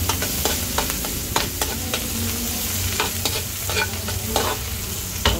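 Onion fries in a pan with margarine for pork menudo, a dense continuous sizzle with irregular spatula scrapes and taps, close and loud.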